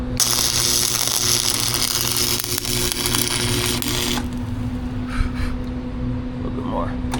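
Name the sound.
welding a tack bead on a crack, Tahoe project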